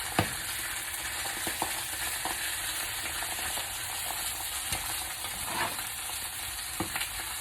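A red snapper fillet fries in a pan with a constant close sizzle. Occasional sharp clicks and scrapes come as the fish is moved around.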